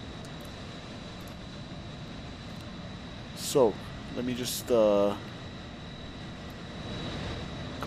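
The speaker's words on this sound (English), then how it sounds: "are the background like VATSIM airplane sounds today extra loud?" Aircraft engines in Microsoft Flight Simulator hold a steady, even background roar with a high whine throughout, while someone speaks briefly over it.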